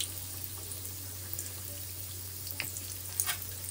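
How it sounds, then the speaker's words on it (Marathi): Masala chilli vadas fry in hot oil with a steady, even sizzle and a few soft bubbling pops, heard up close over a low constant hum. "तर आता हे आपण तळून घेऊ छानपैकी"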